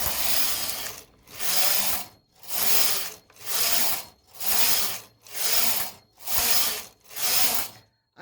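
Domestic knitting machine carriage swept back and forth knitting rows of a sweater, eight regular ratcheting passes each about a second long with brief pauses between, close and clear with no talking.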